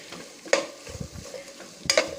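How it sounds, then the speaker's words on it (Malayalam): Two large thinly sliced onions frying in hot oil for a prawn biryani, a soft sizzle broken by two sharp stirring scrapes of the pan, close and fairly loud, with no talking. "ഈ എണ്ണയിലേക്ക് നമ്മൾ ഒരു അത്യാവശ്യം വലിപ്പമുള്ള 2 സവാളയാണ് ഞാൻ എടുത്തേക്കുന്നത്. നമുക്ക് ഇതിനകത്തേക്ക് നേരിയതായിട്ട് അരിഞ്ഞ് ചേർത്ത് കൊടുക്കാം."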